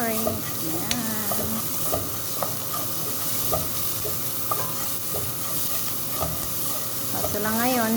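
Vegetables for a marinade fry and sizzle steadily in a pan while a utensil stirs and scrapes them in repeated clicks and scuffs, close and continuous for the whole stretch with no talk.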